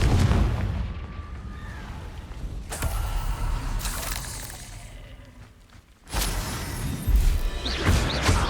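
Explosive spell blasts from the Confringo curse in Hogwarts Legacy, loud booming crashes with a shattering edge, several bursts separated by brief dips, the last one erupting sharply after a quieter stretch.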